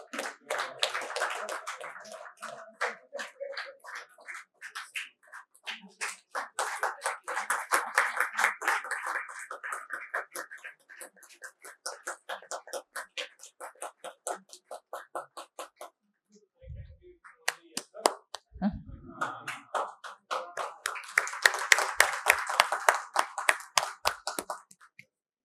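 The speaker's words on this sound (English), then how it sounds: "Let's give him a huge round of applause" Clapping from an audience at a wellness conference, bursts of sharp handclaps swelling and fading over about twenty-five seconds with brief lulls, fairly close, and a short gap midway.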